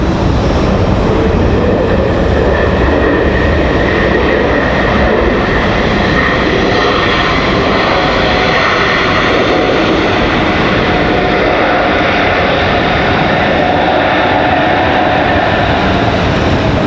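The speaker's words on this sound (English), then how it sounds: "Smooth touchdown for Breeze there." Breeze Airways airliner touching down at Raleigh-Durham International, a loud, sustained roar of engines and rushing air that stays strong and steady throughout the rollout.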